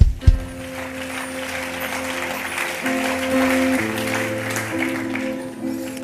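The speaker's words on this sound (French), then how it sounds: "Acclame le Seigneur" A church congregation claps and cheers during a worship service, a steady wash of applause with voices, sustained tones from instruments or singing running underneath throughout.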